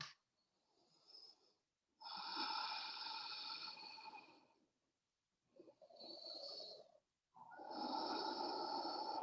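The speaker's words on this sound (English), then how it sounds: "Ujjayi breath." Ujjayi breathing during a yoga forward fold: slow, audible breaths with a soft oceanic rasp at the throat, in long hissing inhales and exhales separated by pauses, close and fairly loud, with no talk.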